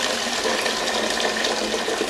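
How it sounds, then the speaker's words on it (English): Boiled water from a kettle pours steadily into a deep pan, making a continuous close rushing, splashing stream with no pauses or speech. "Put your boiled water into a very deep"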